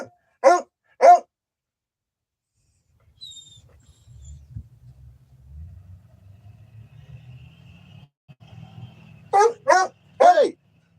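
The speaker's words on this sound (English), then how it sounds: "Crazy dog." A dog barks twice in sharp, close bursts, then after a quiet stretch with a low rumbling hum, it fires off three more loud barks in quick succession.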